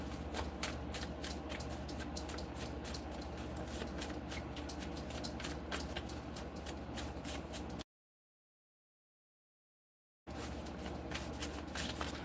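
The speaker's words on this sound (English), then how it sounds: "Shuffling for Cancer." Tarot cards being shuffled by hand, a close, dense run of rapid riffling flicks and slaps that continues steadily, broken by a short stretch of silence before the shuffling resumes.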